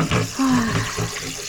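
Water running from a tap into a sink during kitchen cleaning, a steady close gush with clattering and brief voice sounds over it.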